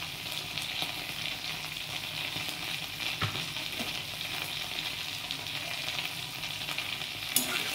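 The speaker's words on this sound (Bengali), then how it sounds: "এবার ভালো করে কষে নেব।" Ginger paste, turmeric, cumin and chili powder sauté in a pan for Bihari chana dal, giving a steady, moderate sizzle with occasional soft stirring scrapes and a single brief clink near the end.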